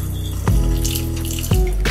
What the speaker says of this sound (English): I need to pour the water out these flowers.